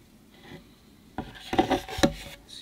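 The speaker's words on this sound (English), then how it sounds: "So the scraper's doing a good job." A hand scraper rasps across the rough, layered surface of a 3D-printed bonsai pot: a few short, close scraping strokes after a quiet start.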